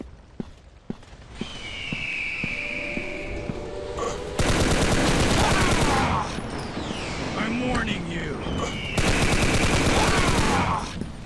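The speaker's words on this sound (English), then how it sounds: "Shots for fast kills." Gunfire in the Counter Terrorist Strike first-person shooter game: rapid automatic bursts and single shots, loud and dense, heaviest in the second half, with game voices mixed in.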